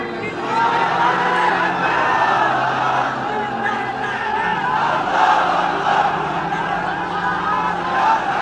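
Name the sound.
crowd chanting takbir (Allahu Akbar) at a waz sermon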